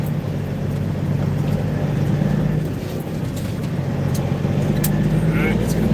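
A truck rolls along a road toward the highway, a steady loud engine and road rumble throughout with small rattles and clicks inside the cab.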